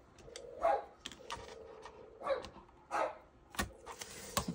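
Dogs bark across a cove in a few separate faint woofs spaced a second or so apart, heard from indoors through open windows over a low steady hum.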